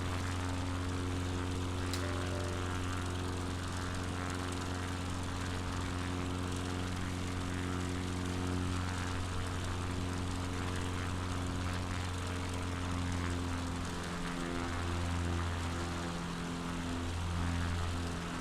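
A propeller plane engine in Flight Simulator 2020, a steady loud droning hum with strong tonal harmonics that holds constant and wavers slightly near the end.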